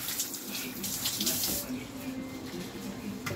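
Leeks being rinsed under a running kitchen tap, a steady broadband rush of water that is louder in the first half and then continues more softly without pause.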